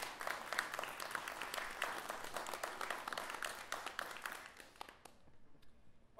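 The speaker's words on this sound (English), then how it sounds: "why don't you give yourself a round of applause?" Applause from the audience at a college guitar ensemble concert, a fairly quiet spread of many hands clapping that thins out and fades toward the end.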